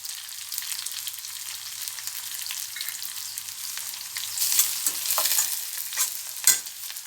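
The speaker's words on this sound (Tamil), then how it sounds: "ஓரளவு வதங்கி வந்தோடனே பூண்டு போட்டு அனல் குறைச்சி வச்சு வதக்கிக்கலாம்" Shallots, curry leaves and garlic sauté over low heat in a pan, giving a soft continuous sizzle, and a spoon scrapes and stirs now and then, growing a little busier toward the end.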